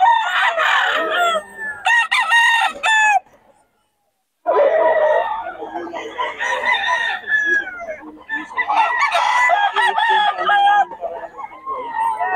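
Roosters crow loudly and repeatedly up close at a market in Bocaue, overlapping with clucking chickens, with a brief pause between calls.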